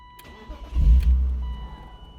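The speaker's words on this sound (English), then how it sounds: "We're gonna start the car." A 1999 BMW M Roadster's inline-six engine cranks briefly and catches, settling into a deep, steady idle, close and fairly loud.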